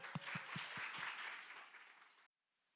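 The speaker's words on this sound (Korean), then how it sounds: "응원의 큰 박수 부탁드립니다" Loud, dense applause from an audience at a Korean youth speech contest, cheering on a speaker about to present. A few heavy thumps open it before the clapping builds to a steady roar, then it cuts off abruptly.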